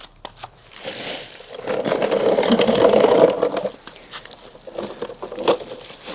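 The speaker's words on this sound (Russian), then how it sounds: "Сейчас я заведу мотик на стоке, мы послушаем, как звучит сток" A Suzuki GSR 750 motorcycle with its stock exhaust runs close by, a rattly, buzzing mechanical churn that swells louder in the middle and then settles into an uneven idle.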